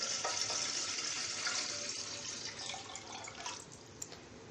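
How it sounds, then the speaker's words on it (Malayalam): Two cups of water pour into a pot on the stove, a steady splashing gush that eases off, fairly quiet and close. "അളന്ന് വെച്ചിരിക്കുന്ന 2 കപ്പ് വെള്ളം ഇതിലേക്ക് ഒഴിച്ചു കൊടുക്കാം."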